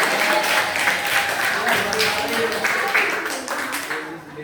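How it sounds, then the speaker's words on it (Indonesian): Classroom applause for a student group after its presentation, a busy patter of clapping mixed with overlapping chatter, tapering off toward the end. "Silakan, tepuk tangan buat kelompok 1"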